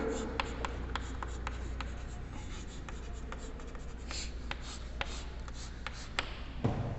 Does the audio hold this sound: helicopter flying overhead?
no